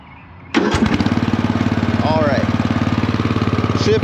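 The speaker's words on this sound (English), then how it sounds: "Let's get this engine running first." A riding lawn mower engine starts abruptly after a quiet moment and settles into a loud, close, steady chugging idle with an even rapid pulse.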